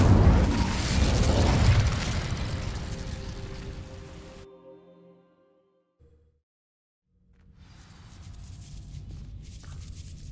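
Incendio fire spell in Hogwarts Legacy sets dry vines ablaze with a loud, roaring, crackling burst that cuts off abruptly into near silence, followed by a softer rumble returning.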